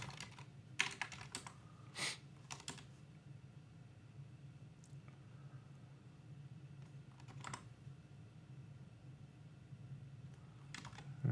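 Quiet typing on a computer keyboard entering a Docker Compose install command, with scattered close keystrokes and a few louder clacks over a low background hum, no talk.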